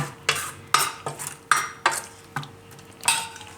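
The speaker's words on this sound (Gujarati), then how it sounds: "આ રીતે મિક્સ કરી લેવાનું." Spices are mixed into a soaked oats batter, a spoon clinking against the bowl in about eight sharp, regular strokes, close and fairly quiet.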